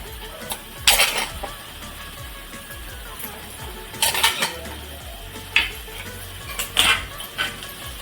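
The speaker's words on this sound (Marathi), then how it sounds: "हे आता मिक्स करून घ्यायचं आपल्याला" Spinach is stirred into besan in a pan for a Maharashtrian palak besan bhaji, with a spoon clinking and scraping against the metal in several sharp bursts over a quiet background.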